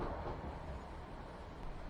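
Train wheels rolling along the track, a low, continuous rumble with a faint rhythmic clatter, quiet and steady throughout with no voices.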